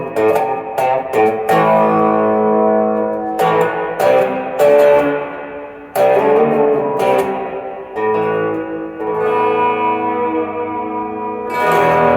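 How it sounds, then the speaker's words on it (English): Bright sustained tones with sharp attacks that bloom into a dense, shimmering plate reverb tail, ringing smoothly between hits with no voices. "Plate reverb. I like plate reverb."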